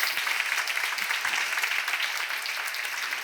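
Audience applause fills a church seminar hall, a dense steady wash of clapping from many hands at even loudness throughout.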